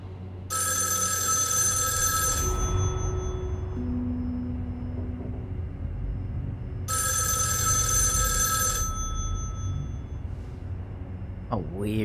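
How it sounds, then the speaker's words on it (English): A telephone rings in the Erica interactive thriller game, two clear bursts of bright electronic ringing separated by a pause, over a low ambient hum, with a voice speaking near the end. "Let's answer the phone."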